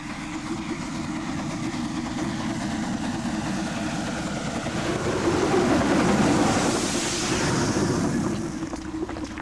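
A restored British express steam locomotive runs past, its engine giving a steady, loud low rumble with broadband hiss that swells briefly midway and then eases off.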